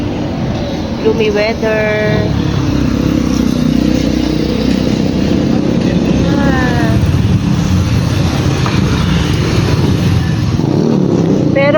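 Road traffic rumbles steadily near Saloma Bridge in Kuala Lumpur, a loud close blend of car and motorcycle engines passing, with a person talking briefly over it.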